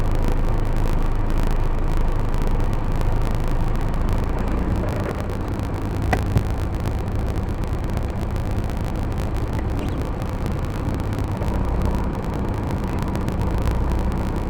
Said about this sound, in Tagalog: Ayos, traffic na.